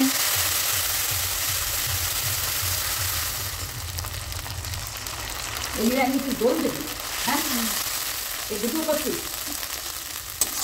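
A ground spice paste goes into hot oil already holding bay leaves and cumin for a green pea dish, giving a loud, steady, close sizzle throughout, with a voice faintly audible in the later part.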